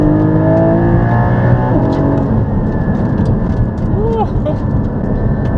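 Inside the cabin, a Porsche 718 Cayman GT4 engine revs hard toward 8,000 RPM. The loud mechanical roar fills the whole stretch, with voices faintly underneath.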